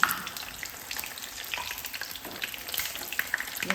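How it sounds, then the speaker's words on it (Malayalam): Vegetable cutlets frying in oil in a pan, a close steady sizzle with crackly pops and light clinks as the pieces are turned over. "ഇപ്പം ഞാൻ മൂന്നെണ്ണം ഇട്ട് കൊടുത്തിട്ടുണ്ട് അപ്പോൾ ഇതിൽ നിന്ന് ഇങ്ങനെ തിരിച്ചു മറിച്ച് ഇട്ടുകൊണ്ടൊന്ന് പൊരിച്ചെടുക്കാം"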